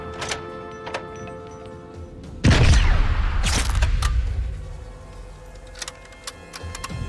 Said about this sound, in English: Now they know where the shot came from, since I missed.